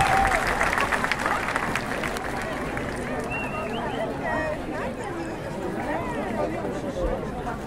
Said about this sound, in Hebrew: הרבה מחיאות כפיים לאיש שכל כך התגעגענו אליו